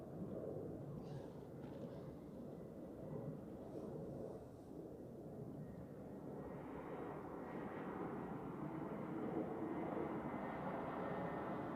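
An Iberia airliner lands on runway 14 at Zurich Airport, its broad engine roar steady and fairly loud throughout, swelling slightly toward the end as it passes nearer, with no talk over it.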